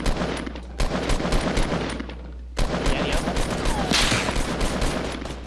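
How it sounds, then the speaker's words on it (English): Dense gunfire in the video game Fortnite, with a steady stream of loud, overlapping shots and bursts across the whole stretch, backed by a constant low hum. "I took a shot at him"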